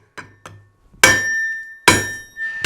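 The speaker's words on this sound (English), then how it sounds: "So I've got a colleague here with a sledgehammer, and we'll do a bit of hammer team action on it" Sledgehammer blows ringing on hot steel while a pry bar, once found on a beach, is forged into a knife: several loud metallic strikes with bright clanging ring, a couple of lighter taps first, then heavy hits about a second apart.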